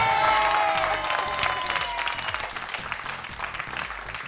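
Studio audience applauds a young contestant on the Greek game show Wheel of Fortune, loud steady clapping over music that trails off, heard without talk.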